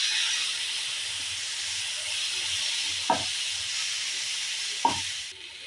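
Water splashed into frying spices and chili powder for a Bengali egg dal sets off a steady, soft steaming hiss, broken by two brief louder sputters near the end.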